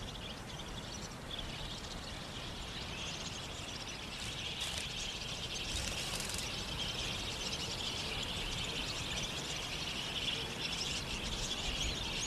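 A flock of budgerigars chirps and twitters continuously, a dense, busy chatter layered over a steady background hiss.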